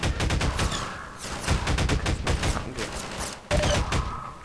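Rapid bursts of gunfire from the video game Half-Life 2: Lost Coast, loud and dense, with repeated sharp shots and a fresh volley near the end, no talk over it.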